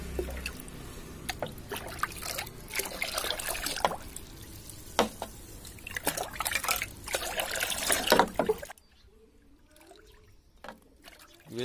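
Water is stirred and sloshed while five litres are mixed for an herbal nutrient spray. Close, irregular splashing and trickling runs for several seconds before it suddenly drops to near silence, with a few faint drips after.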